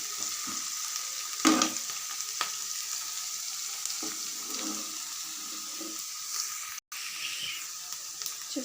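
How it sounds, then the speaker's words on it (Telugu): Chopped onions, curry leaves and nalleru stems fry in a pan for a nalleru chutney, giving a low steady sizzle with a few sharp clinks and scrapes of stirring, heard alone and fairly faint. "ఆనియన్స్తో పాటుగా కరివేపాకు, నల్లేరు కూడా వేసి బాగా వేయించుకోవాలి."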